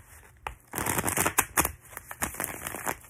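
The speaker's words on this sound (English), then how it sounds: "I'm going to shuffle one more time." Tarot cards being shuffled by hand, a quick series of soft riffling and tapping bursts, close and fairly quiet, with no talking.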